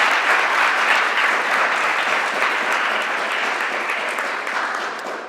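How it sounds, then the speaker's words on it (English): Audience applause at a Three Minute Thesis competition, a continuous, even wash of clapping from a seated crowd that holds steady and fades gently toward the end. "So I think an applause."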